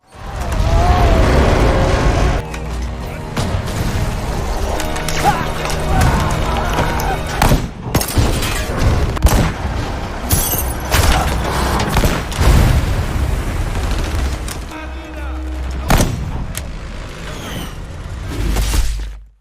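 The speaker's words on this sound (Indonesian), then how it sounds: "serangan udara dari pihak musuh mulai menghancurkan wilayah pertahanan mereka" A film battle scene set among Soviet and Nazi forces fills with booming explosions from an air strike and bursts of gunfire, dense and loud throughout, with a voice talking over the din.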